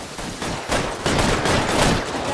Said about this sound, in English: We're gonna do some damage with the shotgun, okay?